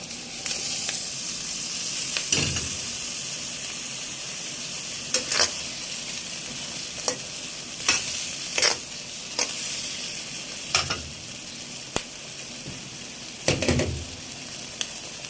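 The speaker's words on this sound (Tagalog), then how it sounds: "Nagluluto ako ngayon ng ginisang chicken" Chicken sautéing in a pan with tofu gives a steady sizzle throughout, broken by repeated sharp clatters of stirring at irregular intervals, close and fairly loud, with no voices.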